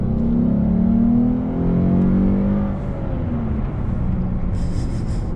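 A 2015 Lexus RC 350 F Sport coupe's engine revs hard and loud up close, a rising roar that eases off partway through and keeps humming steadily.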